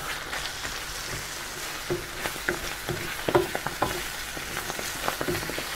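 Black pepper being stirred into a frying Dansak or Pathia curry: steady sizzle with scraping spoon strokes and soft clicks against the pan, close and moderately loud, with no voices.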